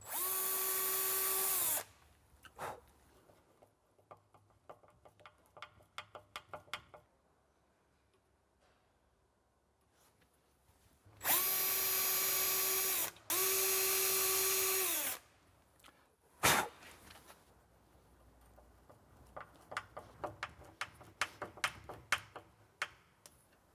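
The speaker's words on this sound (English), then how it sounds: "pilot for the other 2 screws, and then screw into position" A power drill drives screws into a larder door frame in two loud whirring bursts, one short and one longer, separated by quiet ticking and handling clicks.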